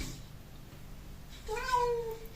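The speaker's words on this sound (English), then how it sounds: "But my cat is not having it." A house cat meows insistently to be let out of a closed room, a couple of drawn-out, wavering cries close by in an otherwise quiet indoor space.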